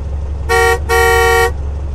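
A truck horn sounds two loud, close blasts, a short toot followed by a longer one, then stops.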